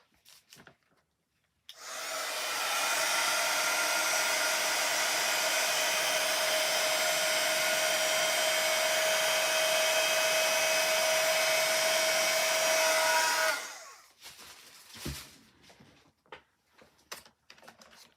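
A heat tool blows hot air to dry ink on paper stamps, a steady loud whirring hiss with a fixed whine that starts abruptly, holds for about twelve seconds, then cuts off, followed by faint handling noises.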